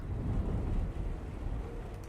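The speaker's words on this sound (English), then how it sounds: "I can't go out there because it's superheated rain." Superheated rain and thunder from the video game No Man's Sky, a steady loud roar of heavy rainfall with deep low rumbling throughout, no voices.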